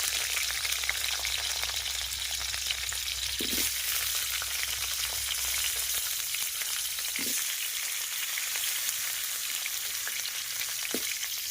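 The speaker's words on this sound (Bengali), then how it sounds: "এবার আলুগুলো আমি একটু ভেজে নেব তেলের মধ্যে।" Potatoes fry in a little oil in a wok, giving a steady broadband sizzle throughout with a few faint spoon scrapes or clinks, and no talking.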